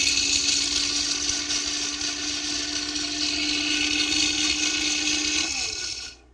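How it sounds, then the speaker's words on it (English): A Tri-Best blender grinds coffee beans with a loud, continuous high-pitched whir that holds steady for several seconds, then winds down and stops abruptly at the end. "I'm going to just grind my my beans with my Tri-Best blender here"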